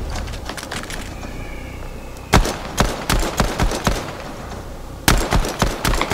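Pistol shots in Fortnite: a string of sharp, loud single cracks, the first burst spaced roughly half a second apart, then a pause and a further quick run of shots, with faint background game noise between them.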